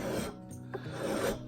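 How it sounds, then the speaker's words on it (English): A hand file rasps across wood while cleaning up the depth of a spiral carving, with a few close, scratchy back-and-forth strokes and no talking. "now I'm just going to take the file and clean up my depth as I go around,"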